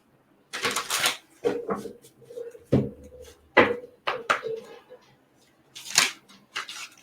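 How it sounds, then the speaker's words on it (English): Tarot cards are shuffled by hand in quick, close bursts of riffling and slapping, separated by short quiet pauses. "Didn't even finish shuffling"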